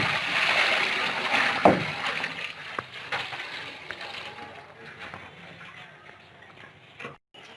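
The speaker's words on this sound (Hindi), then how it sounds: "हस्बी ज़रूरत पानी शामिल करेंगे।" Water poured into a cooking pot while making degchi-style rice, a splashing, bubbling pour that is loudest early and fades into soft clinks and a sharp knock near the end.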